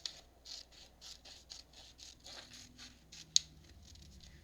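Scissors snipping through paper while making a trifold card craft, a steady series of close, crisp cuts at an even pace, ending with a sharp snap.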